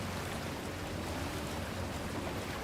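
An outboard motor drives a boat across water in Resident Evil Village, a steady, broad rushing drone of engine and water at moderate level, unbroken and without talk.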